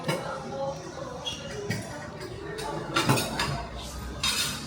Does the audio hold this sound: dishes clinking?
yes